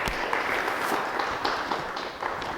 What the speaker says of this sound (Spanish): dense un aplauso a ustedes mismos,